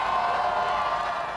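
Huge crowd cheering at the Raptors championship parade in downtown Toronto, a dense, distant-sounding roar of many voices with whoops and scattered clapping, sustained and even throughout.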